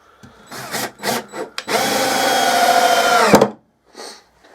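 A 12 volt (10.8 volt) cordless electric screwdriver drives 40mm screws: a few short whirring bursts, then one sustained close, loud run of about two seconds that winds down abruptly, with a faint tap afterward.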